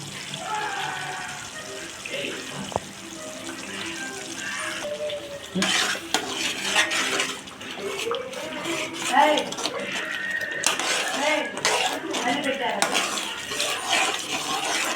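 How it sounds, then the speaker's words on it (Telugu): A spoon scrapes and stirs two spoonfuls of ginger garlic paste as it fries and sizzles in a pan for a mixed curry of stuffed brinjal, drumstick and potato, with someone talking over the clatter. "పచ్చివాసన పోయేంత వరకు కూడాను దాన్ని బాగా కలుపుకోవాలండి"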